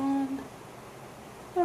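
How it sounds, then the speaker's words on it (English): A pet cat named Indy gives two short meows, one at the start and a rising one at the end, with a quiet pause between them. "Indy's meowing, if you can hear him."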